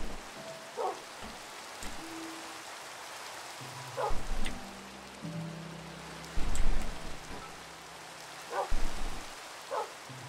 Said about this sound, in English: Why is it still raining?